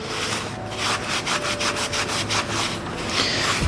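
Rhythmic back-and-forth sanding strokes scrub across an oiled wood lathe surface, close and steady, roughly a dozen quick rasping passes with no talking.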